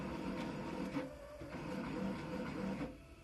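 A machine whirs and chatters steadily nearby, its motor buzzing with rapid rhythmic clicks as a cutting head moves back and forth.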